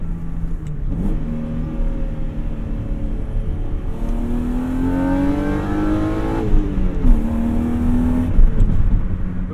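BMW E30 with a swapped S52 engine accelerating hard, the engine note climbing through the revs, dropping briefly at a gear change and then rising again, loud and close from inside the car.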